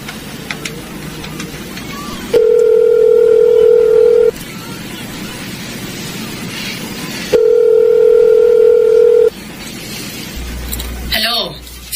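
A payphone handset gives two steady dial tone bursts of about two seconds each, separated by quieter room noise, with a short rustle and low thump near the end. No keypad beeps stand out.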